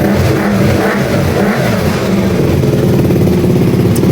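A KTM Duke motorcycle engine runs steadily up close after a battery fix, a loud continuous rumble with slight revving throughout.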